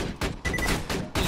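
Rapid bursts of automatic turret gunfire in the video game Borderlands 2, roughly five loud close volleys of shots in uneven rhythm, no talking.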